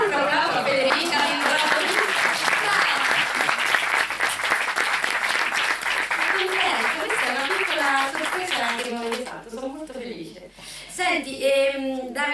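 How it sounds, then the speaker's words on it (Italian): An audience at a film award ceremony in Rome claps steadily in dense, sustained applause as a presenter keeps talking over it, and the clapping thins out near the end. "Facciamo un applauso a Federica"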